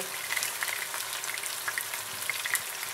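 Beef browning in a hot pan for a beef and Guinness stew gives a steady, close sizzle of frying with scattered small pops and crackles throughout.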